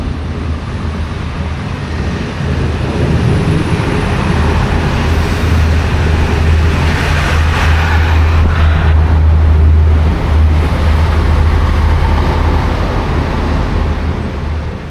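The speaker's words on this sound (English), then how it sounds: "here comes the train" A Belgrano Sur suburban train arrives at a Buenos Aires station with a loud, sustained low rumble that swells and holds, plus brief mechanical clanks midway.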